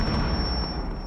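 A brief, loud burst of gunfire comes through a wall in Rainbow Six Siege, heavy booming shots packed tightly over about a second, no talking.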